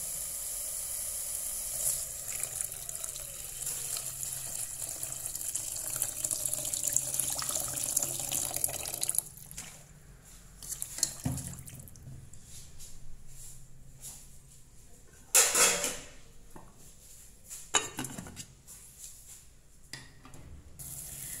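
Water pours steadily into a pot for Vietnamese vegetable soup, a continuous rushing hiss for about nine seconds. It then stops, leaving a few clinks and thumps of kitchen handling.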